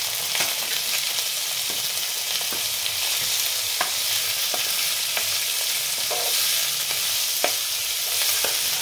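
Chopped onion and cabbage fry lightly in mustard oil, a steady broadband sizzle running throughout with scattered sharp clicks and scrapes of stirring, loud and close with no talking.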